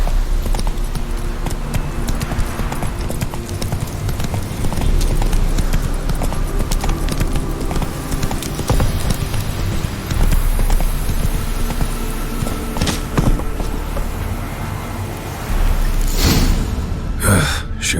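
Roach, Geralt's horse in The Witcher 3: Wild Hunt, trots with a steady clip-clop of hooves mixed into game ambience and the rider's breathing, loud and continuous, with a short burst of louder sounds at the end.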